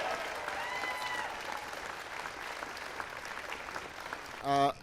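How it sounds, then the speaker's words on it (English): Applause for the 2010 NCAA men's basketball champions Duke Blue Devils at the White House, a soft, distant wash of clapping lasting several seconds before a brief louder tonal sound at the end. "Give them a big round of applause."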